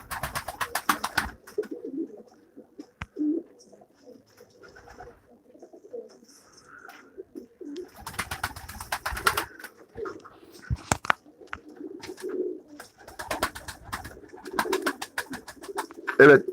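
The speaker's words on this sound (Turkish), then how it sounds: "güvercin besliyorum" Pigeons in a breeder's loft cooing, repeated soft throaty coos close by, mixed with bursts of wing flapping and shuffling, with someone speaking intermittently among the birds.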